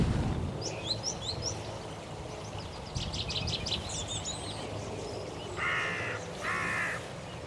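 Hooded crows calling outdoors near a decoy setup, several harsh caws and chattering calls at moderate distance, followed by two longer, louder croaking bursts over quiet background noise.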